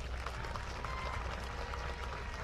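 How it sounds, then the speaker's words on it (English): High school graduates applauding at their graduation ceremony, a steady, dense crowd clapping heard at moderate distance with no break. "Give yourselves a round of applause, graduates."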